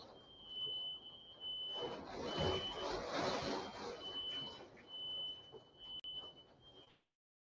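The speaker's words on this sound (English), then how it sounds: "my damn smoke alarm going off" A home smoke alarm set off by cooking emits a steady high-pitched electronic tone lasting about seven seconds, heard under a background of indoor noise and murmuring.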